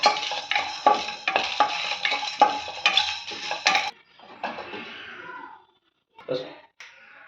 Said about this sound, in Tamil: கொஞ்சம் ஜீரகம் கொஞ்சமாக மிளகு ஒரு நாலு கிராம்பு ஒரு கொஞ்சம் மல்லி விதை ரெண்டு பட்டை இதை வறுத்துக்கோங்க